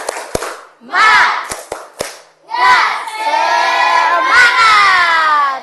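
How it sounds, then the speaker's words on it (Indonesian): A classroom of Indonesian schoolchildren performs a spirit clap cheer, with sharp, close hand claps in a patterned rhythm between loud, chanted group shouts. The voices rise together in sustained bursts. "Kita tepuk semangat dulu supaya lebih semangat untuk belajarnya hari ini."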